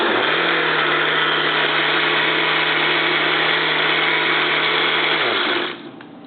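A kitchen blender whirs steadily while mixing a strawberry smoothie, a loud, even motor drone that holds its pitch, then drops and winds down near the end. No one speaks.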